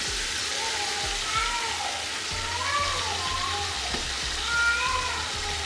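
Steady hiss of cabbage sizzling in a pan with chicken and rice, continuous and close, with someone talking over it.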